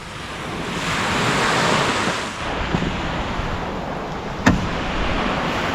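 Sea waves wash steadily onto the shore at Silivri during a fishing outing, a continuous loud surf roar with wind buffeting the microphone and one sharp knock near the end.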